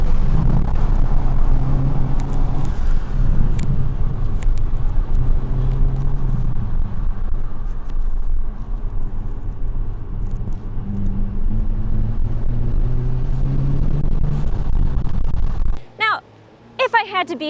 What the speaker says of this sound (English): I'm just kind of taking a little bit of a lap in the Kona N